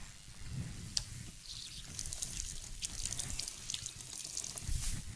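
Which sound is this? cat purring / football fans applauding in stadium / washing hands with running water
washing hands with running water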